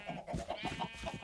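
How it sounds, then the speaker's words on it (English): A sheep in the Minecraft game bleats in a brief wavering call with a few pulsing syllables, close and quiet, with no talk. "I've got some sheep, I've got some cows"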